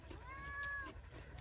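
A cat gives a single clear, drawn-out meow against low background rumble, with no speech.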